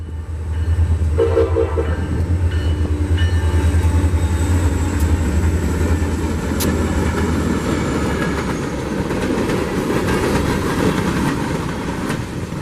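A freight train rumbles steadily past nearby in central Florida, with a loud low roar and a horn blast near the start, continuing for the whole clip.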